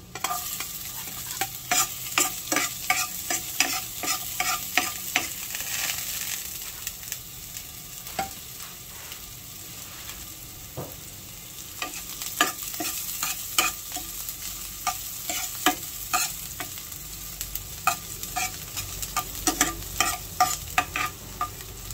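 Onion and garlic sautéing in a pan with sweet potato tops, a soft steady sizzle broken by frequent irregular clinks and scrapes of a spatula stirring against the pan.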